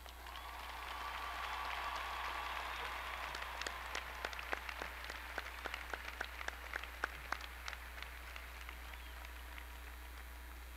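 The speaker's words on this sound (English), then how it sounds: "Please stand so we may applaud you." A large graduation audience at a college ceremony applauds standing graduates, a broad roar of distant clapping that swells and holds, with a few sharper nearby claps standing out over a low steady hum.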